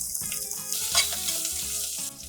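Green chillies and onions frying in a pan for mutton keema, giving a loud, dense crackling sizzle with bright spitting throughout and no talk.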